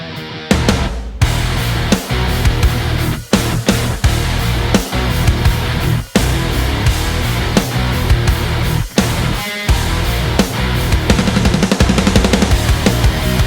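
A heavy-genre drum kit pounds dense and loud over a full rock band demo of a song, with steady driving hits and brief breaks where the mix drops out, no voices.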